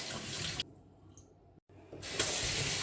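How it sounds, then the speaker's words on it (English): Celery stalks rinsed under a running kitchen tap, a steady broadband rush of water that breaks off twice and returns, close and fairly loud with no talking. "make sure you wash your celery thoroughly, especially the middle part of the celery"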